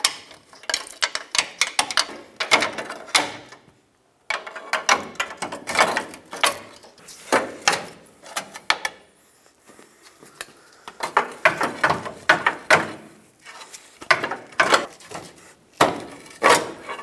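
Lower control arm on a 1996-2002 Toyota 4Runner being worked loose and slid out, a close run of sharp metallic clanks, scrapes and ratcheting clicks in uneven bursts with brief pauses.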